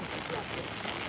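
Rain falls steadily during a fishing trip to a wetland with a net, a dense, even patter on surfaces lasting the whole short stretch with no break.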